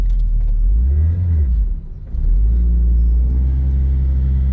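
A used car's engine, running with a weak, failing battery, rumbles steadily at close range, dips briefly in the middle, then picks up again into a continuous drone.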